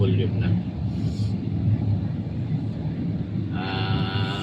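Road traffic on a weekday before Holy Week, heard from inside a driver's vehicle as a steady low rumble of engines and tyres, with a brief higher whine from passing vehicles near the end.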